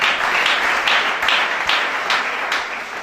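A church congregation at a worship service applauding, steady dense clapping from many hands with rhythmic surges, loud and continuous throughout with no talk over it.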